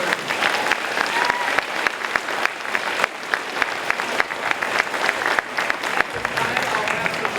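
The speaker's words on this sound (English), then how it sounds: "let's get one more round of applause for our award winners" An audience at a school awards presentation applauds warmly for the award winners, a dense sustained clapping from a full room with scattered sharper claps and faint crowd murmur.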